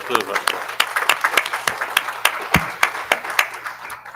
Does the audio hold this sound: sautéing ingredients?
no